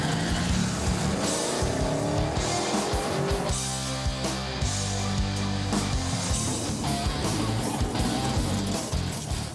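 Classic muscle cars, including a 1968 Pontiac GTO, roar at a drag track, loud engines revving and rising in pitch through gear changes, with tire squeal and cars passing close by.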